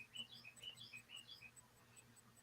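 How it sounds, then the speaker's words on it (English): High, quick chirps from a bird, called a hummingbird, come from outside a window as a faint, distant string of short tweets over a steady low room hum, with nobody speaking. "There's a beautiful bird singing outside my window right now"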